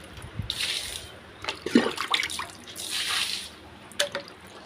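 Water splashes and drips during room washing, with irregular nearby splatters, a few louder gushes and scattered drops against a quiet background.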